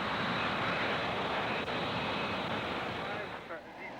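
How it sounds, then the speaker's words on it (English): A jet aircraft using compressed-air jets to hover gives off a loud, steady roar with wind rush, continuous for several seconds before easing slightly at the end. "The jets use highly compressed air to allow the plane to perform pitches, pirouettes, rolls or just hover."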